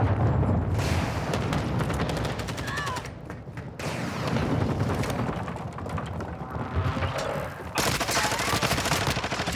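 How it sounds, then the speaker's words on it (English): An airstrike in Call of Duty: Modern Warfare 2 during a ranked Hardpoint match, heard as loud, continuous rolling explosions and bursts of gunfire that barely pause, with one brief quieter gap before the barrage resumes. "Friendly airstrike on the way."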